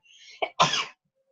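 A sudden sneeze bursts out close by, a short sharp intake followed by a louder explosive release, then silence.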